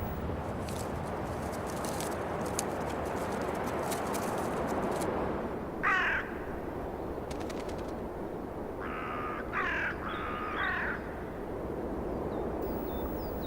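Several harsh, croaking common raven calls ring out over a steady roar of wind near a cliff face, spaced apart in short bursts, moderately distant.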